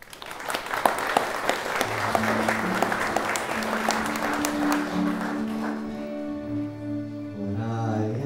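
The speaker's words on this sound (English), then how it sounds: "Give her a big clap." Wedding guests on the Aran Islands applaud warmly for about five seconds, a dense steady clapping that fades as a melodic sung or played tune rises in its place.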